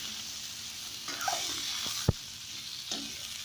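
Cauliflower is half-frying in a pan for a mixed vegetable curry, giving a soft, continuous sizzle broken by a few stirring scrapes and one sharp utensil clack, with no voices.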